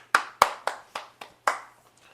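Hands clapping six times in an uneven rhythm, sharp close claps spaced about a quarter second apart, then quiet.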